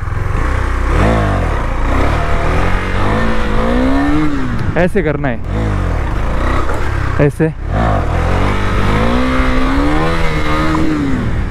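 A KTM Duke 390 motorcycle engine revs loudly and repeatedly during wheelie practice, rising and falling in pitch with brief throttle cuts, while someone talks over it up close.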